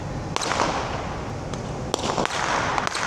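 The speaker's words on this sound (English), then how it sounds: "light off fireworks in the middle of the day." Fireworks go off in daylight in a city, heard as a few sharp cracks and pops over a dense, steady hiss of background noise.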